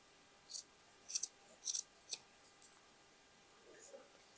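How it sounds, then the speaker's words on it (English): Scissors snip through fabric for a sewn plus-size boho hooded jacket, giving four or five crisp, close cuts in an uneven rhythm, then quieter handling in a hushed room. "So I will start from here and just cut it."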